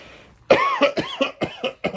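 A burst of harsh coughing close to the mic: one sharp cough followed by several quick, rasping hacks in a row.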